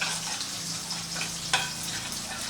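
Onion, garlic and tomato fry in a pan with a steady, close crackling sizzle and a single sharp tap midway; no voices.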